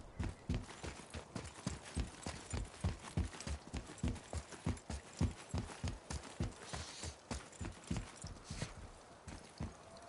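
A horse trots in the video game God of War, a steady rhythmic clip-clop of hooves repeating evenly, close and clear with no talking.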